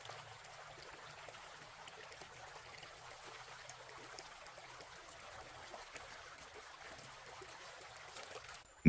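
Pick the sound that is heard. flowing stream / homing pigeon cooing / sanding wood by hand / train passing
flowing stream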